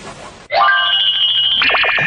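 A telephone rings loudly and continuously for about a second and a half, a bright steady electronic tone that breaks into rapid warbling pulses toward the end, with no voices over it.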